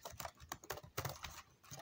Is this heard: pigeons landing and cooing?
no